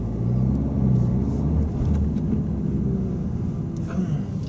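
A learner's car moves off and pulls over to the roadside during a driving lesson, its low engine rumble running steadily throughout and easing slightly toward the end.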